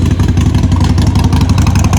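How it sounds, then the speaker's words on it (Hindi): A motorcycle engine runs steady and loud close by, idling with a rapid even throb and mechanical clatter, with no voices over it. "बाइक को स्टार्ट करते हुए"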